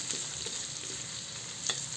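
Onion, garlic and ginger sizzle while browning in a hot pan, a steady close crackle with light stirring clicks and one sharper scrape near the end, no voices.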